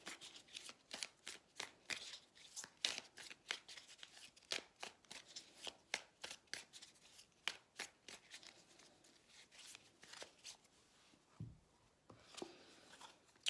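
Tarot cards being shuffled and drawn up close: a quick run of soft, crisp riffles and slaps with no talk, faint and closely miked, then a few slower card handling sounds toward the end.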